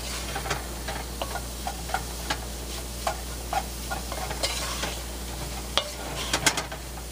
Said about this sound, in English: Mix it really good. We want to get all that flour all mixed in with the pork and the oil.